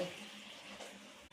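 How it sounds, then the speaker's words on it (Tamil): Water runs in a steady, gentle stream, pouring into a pan while making kesari for about a second before stopping abruptly. "இப்போ தண்ணி ஊற்றிக்கலாம் தேவையான அளவு"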